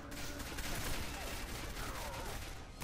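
Weapon fire in the first-person shooter Quake 4, rendered as a dense, continuous barrage of shots. It is loud and sustained across the whole stretch, with game noise filling the background.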